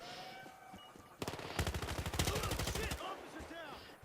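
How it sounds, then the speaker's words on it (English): Gunfire in the online shooter Battlefield Hardline during a robbery-mode match: a rapid automatic burst of shots rattles for nearly two seconds, preceded and followed by quieter game ambience and a few scattered sounds. "Get the old golden gun out."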